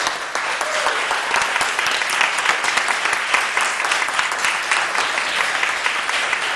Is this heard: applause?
yes